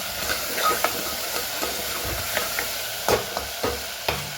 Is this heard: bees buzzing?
no